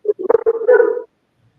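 A single dog gives a brief, close whining yelp lasting about a second, with a short rising and wavering vocal tone and no other sound around it.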